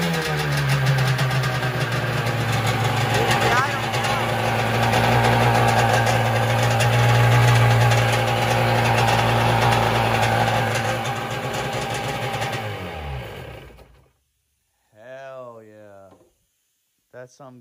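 A 1996 Sea-Doo XP personal watercraft engine runs steadily and loudly up close with a droning, slightly knocking idle that rises briefly, then cuts off abruptly, followed by a short spoken remark.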